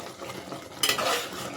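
Vaangi bath mixture stirred in a pot with a spoon, a soft scraping and shuffling that starts abruptly partway through and continues close up, with a faint sizzle underneath.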